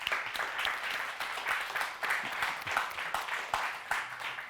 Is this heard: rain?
no